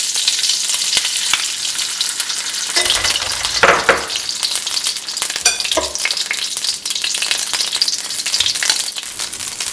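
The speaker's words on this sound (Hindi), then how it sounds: "अब इसमें तकरीबन आधी कटोरी हम घी," Desi ghee sizzles and fries with semolina panjiri in a pan while the mixture is stirred. A continuous crackling hiss comes through with occasional scraping bursts from the spoon, close and fairly loud, and no talking.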